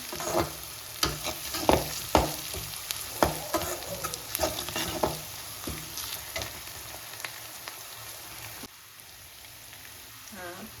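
Dried red chillies fry in oil, sizzling and crackling steadily in a pan, with scattered stirring clicks and pops, close by and fairly quiet.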